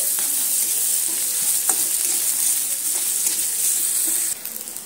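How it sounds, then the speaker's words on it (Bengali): Sliced onions fry to a deep red in hot oil, a steady loud sizzle with faint stirring scrapes throughout, easing slightly near the end. "পেঁয়াজগুলোকে একদম লাল লাল করে ভেজে নিতে হবে।"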